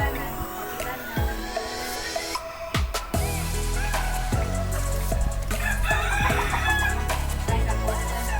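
Chickens on a farm crowing and clucking, several loud rooster calls and sharp clucks up close, repeating throughout over a background of farmyard noise.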